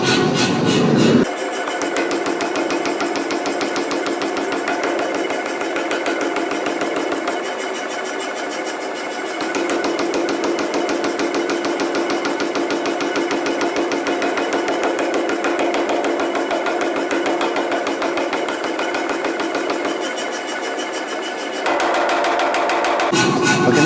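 A power hammer pounds a copper ladle handle being forged down to a square section, delivering a fast, relentless mechanical hammering that runs almost continuously and loud, pausing briefly near the start and end.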